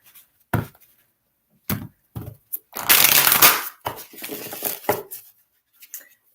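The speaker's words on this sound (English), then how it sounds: "So I'm going to shuffle" Oracle cards from a bent deck being shuffled by hand, with several short riffling bursts and one longer, louder run of papery shuffling in the middle, close and alone.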